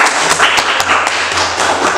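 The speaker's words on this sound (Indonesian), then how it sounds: "Ya, beri tepuk tangan pada adik Sri" Students in an Indonesian classroom clap their hands together, a short burst of brisk, somewhat uneven claps with a few sharper taps, close and loud, with no talking over it.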